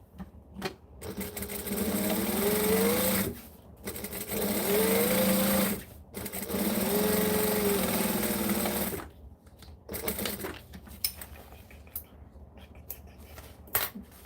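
Sewing machine stitching straight lines of fabric, three loud sustained runs of whirring, rapid needle clatter separated by short pauses, then quieter handling clicks and rustles near the end, close and with no talking.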